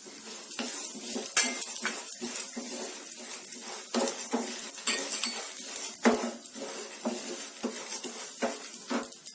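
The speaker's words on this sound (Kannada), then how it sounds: "ಎಣ್ಣೆ ಹಾಕೊಂಡು ಅದಕ್ಕೆ ಕಡಲೆಬೇಳೆ ಹಾಕಿ ಒಂದು ಅರ್ಧ ನಿಮಿಷ ಫ್ರೈ ಮಾಡಿ ಉದ್ದಿನ ಬೇಳೆ ಹಾಕೊಳ್ಳಿ" Chana dal and urad dal frying in a little oil for a Vangi Bath spice powder, with steady close sizzling broken by repeated sharp clinks and scrapes of a spoon against the pan.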